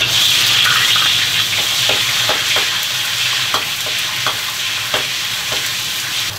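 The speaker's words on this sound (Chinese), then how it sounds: "油烧热，肉下锅" Meat fries in hot oil in a wok for mapo tofu, a loud steady sizzle broken by repeated scraping stirs of a spatula at an uneven rhythm, close up and with no voices.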